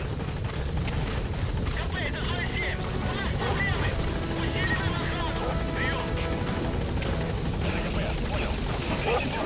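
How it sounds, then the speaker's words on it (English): A helicopter arrives at a landing zone in Metal Gear Solid V: The Phantom Pain, its rotor chop a sustained, rhythmic drone under game radio chatter and other voices. "My helicopter was already here."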